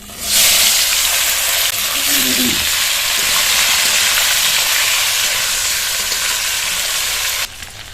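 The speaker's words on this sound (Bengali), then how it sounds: "এর মধ্যে লম্বা লম্বা করে কেটে রাখা পটল আলুটা দিয়ে ভেজে নেব" Long-cut strips of pointed gourd and potato fry in leftover fish-frying oil, with a loud, steady sizzle and hiss that holds for several seconds, alone with no talk.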